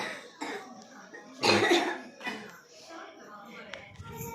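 A person coughs several times, with one strong, close burst in the middle and lighter coughs around it, amid soft household talk.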